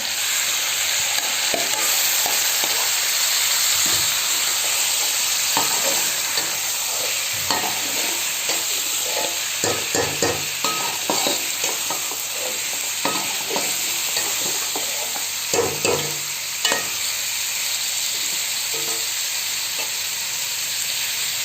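Goat head meat sizzles steadily in a hot pan as it is stirred, with scraping and clinks from a spoon throughout, no one speaking.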